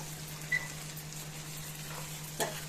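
Mustard seeds and tender pumpkin pieces fry in hot oil for a chutney, making a soft, even sizzle with a low steady hum and two brief spatters or stirring knocks.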